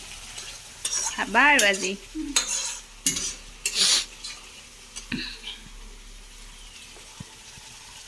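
Food frying in mustard oil in a home kitchen is stirred, with scraping clinks of a spatula against the pan and bursts of sizzling, alongside brief nearby speech.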